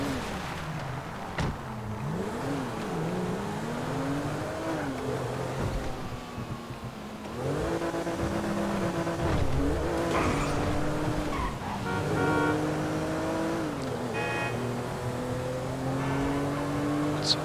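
Car driven in GTA V: engine revving and dropping through gear changes, pitch rising and falling repeatedly, with tire squeals and skids, loud and close over steady road and traffic noise, no talk.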